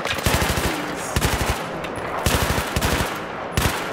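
Rapid bursts of light machine gun fire in Battlefield 3, several short rattling volleys spaced across the clip, loud and close over a constant gritty background din.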